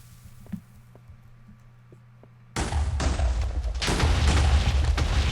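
TNT explosions in a Minecraft game start with a few faint pops over a quiet hum, then a loud blast suddenly erupts into a dense, rumbling, crackling roar that keeps swelling and booming.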